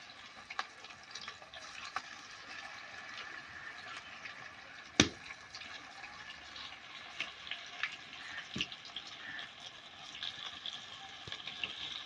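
Semolina (sooji) pakoras deep-fry in hot oil with a steady, bubbling sizzle, broken by a sharp clink near the middle and a few softer taps and stirring sounds, with no one talking.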